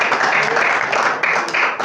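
A church congregation claps during a sermon, a brisk, fairly loud burst of many hands with some irregular sharper claps, no speech over it.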